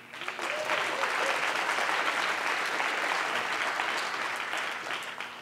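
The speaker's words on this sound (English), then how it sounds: "just give the whole industry a round of applause" Conference audience at a float industry event bursting into broad, dense applause that holds steady for several seconds before easing off slightly, with no voices over it.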